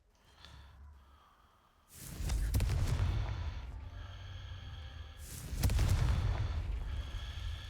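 Two heavy fiery blasts from the Confringo spell in the Hogwarts Legacy video game, each a sudden booming burst that rumbles and decays over a few seconds, the second following about three seconds after the first.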